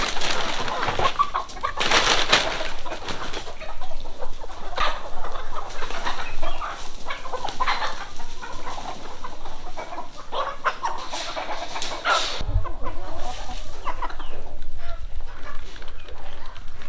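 Chickens cluck and chatter steadily in a barn at feeding time as feed is scattered, a busy flock sound lasting throughout with brief louder bursts and a low thump near the end.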